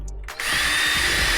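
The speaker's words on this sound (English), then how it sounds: "You always want to drill pilot holes so the screws don't split the sides as you drill them in" A power drill drives screws into a glued subwoofer box for a GX 470. A short click comes first, then a steady loud whirring motor runs close up, with no speech.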